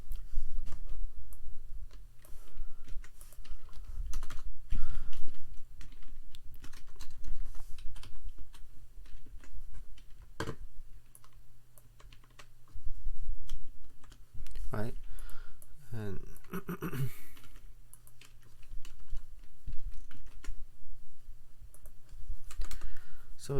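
Steady clatter of typing on a computer keyboard, with irregular bursts of key clicks, runs beside a person speaking throughout.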